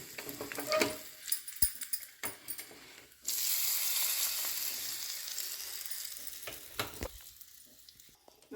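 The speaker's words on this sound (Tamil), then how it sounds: "நல்லெண்ணெயில் தாளிப்பு கொடுங்க" Mustard seeds, urad dal, curry leaves and asafoetida hit hot sesame oil and sizzle loudly and steadily at close range, with crackling pops and stirring clatter before and after the burst.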